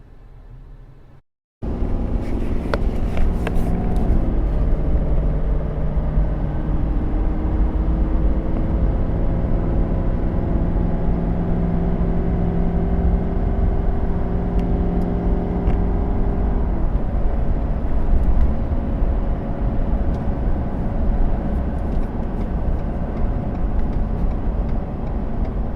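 A 2019 Ford F350 pickup towing a 5th wheel trailer accelerates uphill from a stop, its engine loud and close, rising in pitch through the gears before settling into a steady roar, with no talking.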